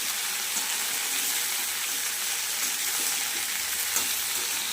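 Mixed vegetables with onion and green chillies stir-frying in hot oil, a steady close sizzle with faint scraping stirs throughout and no talking.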